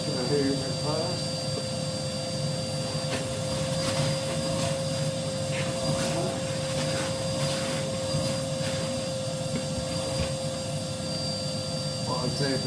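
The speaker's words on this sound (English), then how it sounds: "Just going to hoover it first." A vacuum cleaner hoovers out a Clearview Pioneer 400P 5kW multi-fuel stove, a loud continuous whining drone with scraping and knocking from the nozzle throughout, steady and close.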